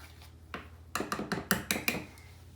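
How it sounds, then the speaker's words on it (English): A utensil scrapes and clinks against a bowl while kosher salt is mixed into flour, a run of about seven quick taps and rattles picking up pace, close and fairly crisp with no talking. "And then we'll just mix this up with our flour."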